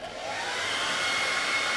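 A steady stream of blown air hits a small homemade air motor floating on water, a continuous breathy hiss that swells in the first moment and then holds even and close, with no talking.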